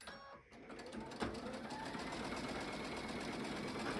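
A sewing machine stitches through an Ohio Star quilt block in a steady, fast mechanical whir that starts after a brief pause and runs on evenly to the end.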